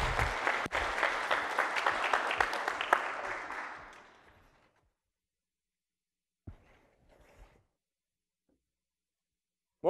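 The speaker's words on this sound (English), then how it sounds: "Give him a warm round of applause." An audience claps steadily to welcome a presenter to a conference stage. The clapping tapers to silence within about four seconds, leaving a few faint thumps afterward.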